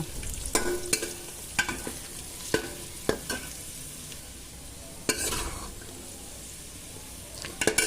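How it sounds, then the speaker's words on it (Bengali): Cashews and raisins frying in hot oil, a continuous low sizzle punctuated by sharp scraping and clinking as a spoon stirs the pan, no talk. "কাজু কিশমিশটা ভাজা হয়ে হয়েছে এবার আমি কাজু কিশমিশটাকে তুলে নেব"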